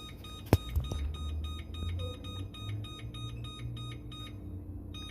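Oven timer being set while baking coffee cake, giving a series of short regular electronic beeps after a sharp knock, faint and close in a quiet kitchen.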